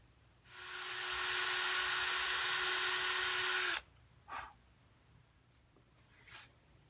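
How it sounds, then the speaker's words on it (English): A power drill drills out a wooden dowel in an 1885 Gustav Becker wall clock with a 75-thousandths bit, whining steadily for about three seconds, then stopping, followed by a couple of short scraping sounds. "now we're going to drill it out"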